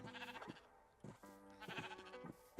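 Several sheep bleat in Minecraft, overlapping calls in quick succession with a few brief gaps, fairly loud and close with no talk.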